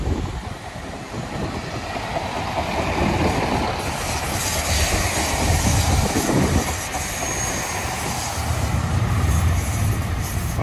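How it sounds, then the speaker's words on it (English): Great Western Railway passenger train passing at Dawlish on the seafront line, a steady, loud rolling rumble and rush of carriages sustained throughout, with a faint squeal of wheels and no voices. "This is a Great Western service, heads towards Tynemouth."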